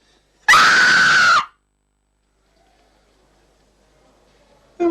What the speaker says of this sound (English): All right, then scream.